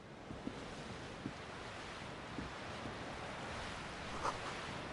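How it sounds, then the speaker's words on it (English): Waves breaking in darkness in the game Disco Elysium, a steady wash of surf with faint wind, occasional soft thuds and a brief higher tone near the end, heard alone. "Waves crashing in the darkness."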